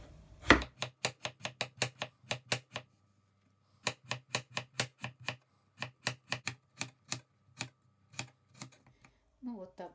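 A knife slices potatoes thinly on a cutting board in quick, crisp, evenly spaced chops, with a short pause in the middle. A voice begins briefly at the very end.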